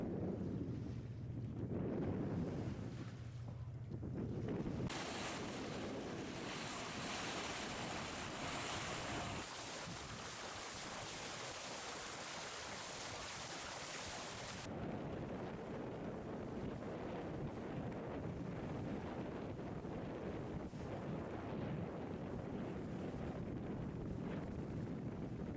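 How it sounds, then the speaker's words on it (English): Wind and waves rush around a small sailboat on a test sail, a loud, steady broadband roar of gusts and water with heavy wind buffeting on the microphone and no voices. "Time for a test sail."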